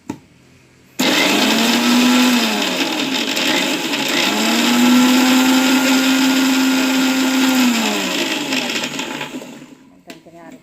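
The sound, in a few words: mixer grinder blending ingredients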